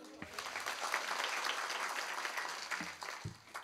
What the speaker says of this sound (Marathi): टाळी वाजवा बरं जोरात.